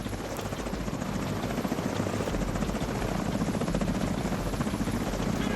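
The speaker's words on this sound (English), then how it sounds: "Two helicopters at the same time?" Helicopter rotors thump steadily and loudly in a shooter video game, a continuous close chopping drone with no voices.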